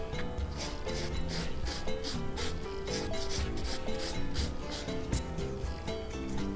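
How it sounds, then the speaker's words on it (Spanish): A nail file rasps along the sides of a fingernail in quick repeated strokes, one direction at a time, close and moderately soft, with an even scratchy rhythm throughout. "Repaso bien los laterales. Y siempre limando hacia un lado."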